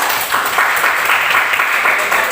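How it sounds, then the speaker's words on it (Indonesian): Classroom applause from a group of students, steady dense clapping throughout at moderate loudness, with a faint voice underneath. "tepuk tangan dulu untuk kita semua"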